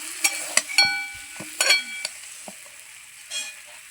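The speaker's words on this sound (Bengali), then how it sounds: "এরপর আলুগুলোর গায়ে মশলা আর টমেটো লাগিয়ে দিলাম ভালো করে মাখা মাখা করে" Potatoes coated with spices and tomato get stirred in a pan, giving sharp spoon clinks and scrapes at irregular intervals over a light sizzle that fades toward the end, near and without speech.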